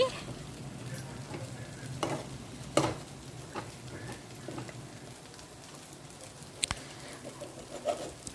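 Fried methi leaves being stirred into a simmering chicken curry, a low sizzle with several scattered scraping knocks of the spoon against the pan, close by, while faint bird calls sound in the background.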